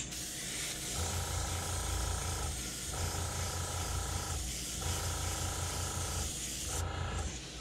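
An airbrush hisses steadily while being cleaned out after painting crankbait fishing lures, a loud, continuous spray with brief dips in intensity near one, four and six seconds.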